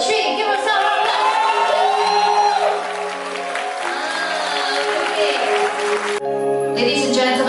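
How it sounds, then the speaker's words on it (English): Wedding guests applaud and cheer for the bride, a loud sustained wash of clapping with whoops and shouts, while live band music and voices carry on underneath. "Okay, 1, 2, 3, give her some applause!"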